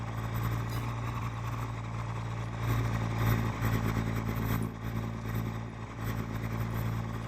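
A rumbling truck engine in the game Farming Simulator 22 drones continuously with uneven rises and dips in intensity, fairly loud and close, with no voices.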